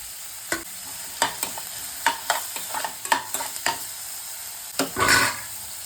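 Onion and capsicum frying for paneer bhurji, stirred in a pan with a series of scraping, clinking strokes over a steady light sizzle that swells louder near the end.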